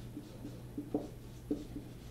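A pen or chalk scratches out equations by hand in short, faint strokes, a few soft taps and scrapes over a low steady hum.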